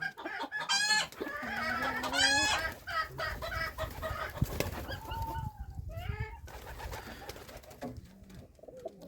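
Chickens cluck and squawk close by, with several overlapping birds and a rooster-like call amid a busy outdoor yard.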